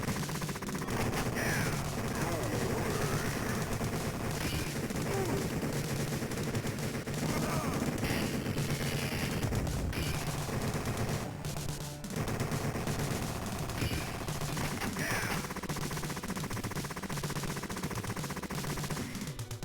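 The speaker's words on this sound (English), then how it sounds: "Now survive a barrage of missiles." A barrage of missiles in Conker's Bad Fur Day: a dense, loud, unbroken stream of rapid blasts and gunfire-like cracks lasting throughout, layered over busy game sound.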